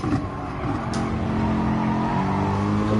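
A race car engine in Gran Turismo Sport at Fuji, a loud, steady, high-pitched roar that holds close and constant as the car accelerates out of a corner, with a faint tire squeal near the start.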